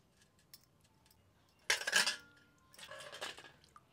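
Peeled, cut red beetroot is washed by hand in a metal bowl of water, giving two bursts of splashing and clattering against the bowl, close and moderately loud, with quiet between them.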